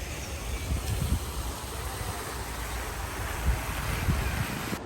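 Sea waves and gusting wind on a sunny beach in Barcelona, a steady broad roar of surf with low wind rumble against the microphone throughout, no talk.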